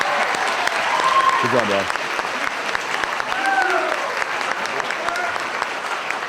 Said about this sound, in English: Let's give our shining stars one more round of applause.